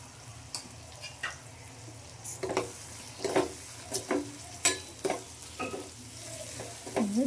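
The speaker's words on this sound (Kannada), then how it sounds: "ಚೆನ್ನಾಗಿ ಫ್ರೈ ಮಾಡಬೇಕು." Chilli powder and salt fry in a pan for a soya chunks gravy, with a steady low sizzle under repeated scraping stir strokes from a spoon, close and moderately loud, with no voices.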